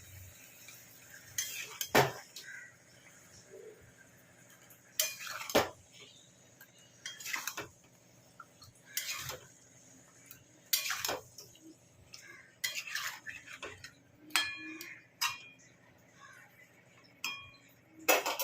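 Methi chicken being sautéed in a pot, with repeated metallic clinks and scrapes of a spoon against the pot at irregular intervals over a quiet background, close by and without any voices.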